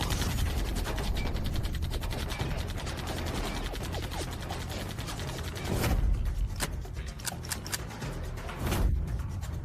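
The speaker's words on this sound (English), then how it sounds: "Why did both guns jam at the same time?" Two guns jam at once in an animated fight scene, giving loud dense mechanical clatter with rapid rattling and ratcheting, then a few sharp isolated clicks and snaps near the end.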